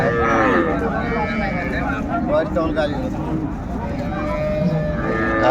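Cows at the busy Raniganj cattle market, where Sahiwal cows with calves are bought and sold, low and moo continuously beneath a crowd's chatter and someone speaking over the din.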